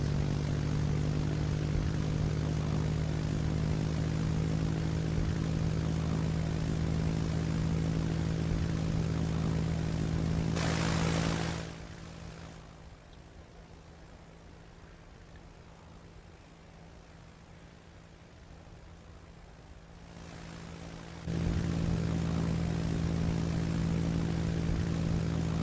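Propeller triplane engine in the Roblox flight game Aeronautica coming in to land, a loud steady droning hum that drops to a quieter throttled-back tone for about ten seconds before rising to full again.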